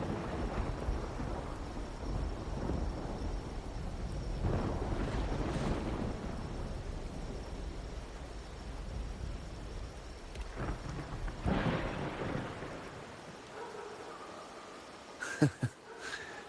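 Low rumbling thunder in Wuthering Waves rolls through steady rain and wind, swelling and fading several times before dying down to quieter patter.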